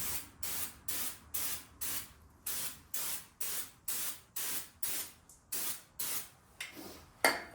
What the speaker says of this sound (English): we'll go ahead and we'll hit the brake clean